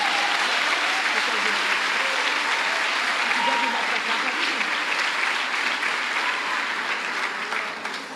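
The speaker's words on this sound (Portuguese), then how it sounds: "Se é para aplaudir Jesus, aplaude gostoso." A church congregation claps steadily and loudly throughout, sustained applause with a few voices mixed in, tapering slightly at the end.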